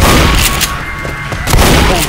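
Dense, loud gunfire from a teammate in the zombie shooter Left 4 Dead, a rapid stream of close shots with booming bursts filling the whole moment, with no pause.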